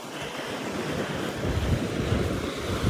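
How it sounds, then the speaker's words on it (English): Waves of the South China Sea off Con Dao island wash and rumble continuously, mixed with strong wind buffeting the microphone, a steady close roar with no voices. "I think this is the South China Sea"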